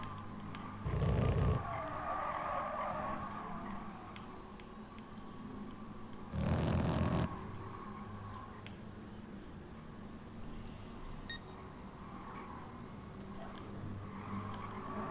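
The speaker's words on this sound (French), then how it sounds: "Ça fait trop bizarre de conduire avec une voiture électrique." An electric car in the racing game Gran Turismo Sport runs with a low, even drive hum, broken by two short bursts of loud tire skidding, with faint high electronic whine throughout and no speech.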